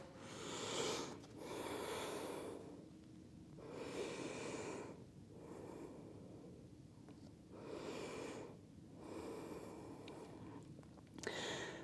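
Slow, deep breaths close to the microphone during a yoga session with a wide-legged forward fold, a long audible exhale followed by several rhythmic in-and-out breaths at an even pace.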